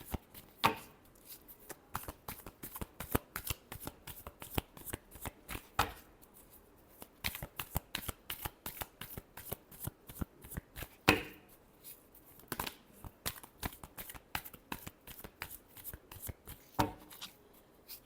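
A deck of tarot cards is shuffled close by, giving a steady run of crisp, rapid papery slaps and flicks with brief pauses between bursts, with no voices.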